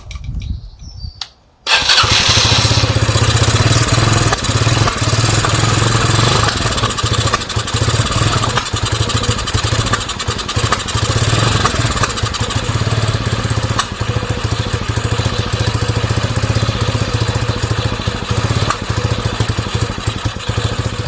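Sinnis SC125 motorcycle with a newly fitted carburettor starts abruptly after a short silence, then idles loud and close with a steady, slightly uneven putter for the rest of the stretch.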